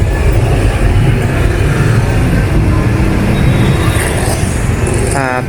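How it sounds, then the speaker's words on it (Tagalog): Road traffic in a valley in Bali, with a constant roar of passing cars and engines close by and a brief horn-like burst near the end. "This Valley traffic."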